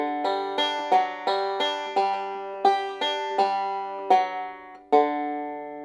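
Banjo plucked through measures 3 and 4 of the bluegrass tune Sweet Sunny South, about a dozen bright, ringing notes in a steady beginner-paced rhythm, played alone and close.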